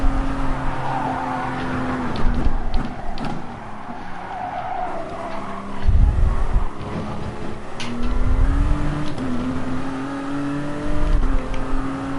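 Tyres skid and squeal from a race car in Gran Turismo Sport at Le Mans, with a loud engine revving and shifting through gears. Screeching bursts keep returning over about twelve seconds.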